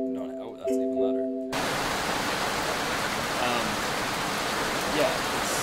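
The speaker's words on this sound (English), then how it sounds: "I can feel distinct raindrops" Simulated rain in a virtual reality haptics demo with Gloveone gloves: a steady, loud hiss of dense rainfall that cuts in sharply after a brief tonal hum with murmuring, then continues evenly.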